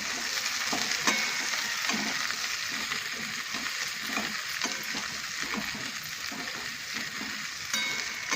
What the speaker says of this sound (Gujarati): હવે નાખીશું ભીંડા સમારેલા. હવે ભીંડાને થવા દઈએ